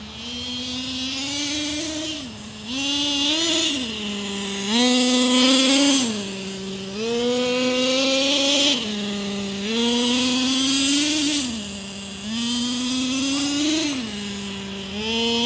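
A Traxxas T-Maxx nitro RC truck revs repeatedly in short full-throttle bursts, its high engine whine rising and falling in pitch with every few-second pull, loud and close throughout.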